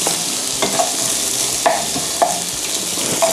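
Carrots and shrimp are stir-fried in a hot pan, a steady sizzle broken by several scraping clacks of the utensil against the pan at uneven intervals, close and loud.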